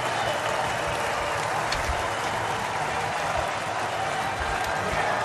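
Sustained applause from a large audience at a political rally for the Republican presidential candidate, a dense, steady wash of clapping with crowd noise throughout.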